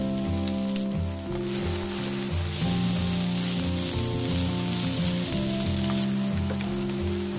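Corn and pumpkin pieces are added to a hot frying pan for a sweet soy vegetable omelette, sizzling loudly and steadily throughout with a brighter hiss partway in and no talking.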